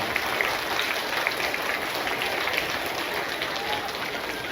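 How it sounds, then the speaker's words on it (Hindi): Continuous applause from a crowd at a school assembly, steady dense clapping throughout at a moderate distance. "और दूसरी जोरदार तालियां आपके पेरेंट्स के लिए"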